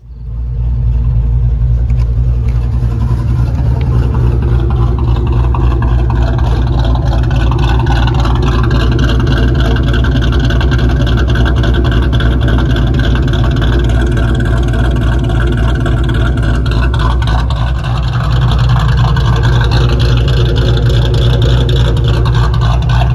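A cammed 2V 2001 Ford Mustang Bullitt, a New Edge SN95, drives with a loud, steady close-up engine drone and deep rumble, surging briefly as it revs near the end.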